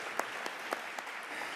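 A church congregation gives graduating seniors a brief, faint round of applause, with soft scattered claps heard from a distance over about a second and a half.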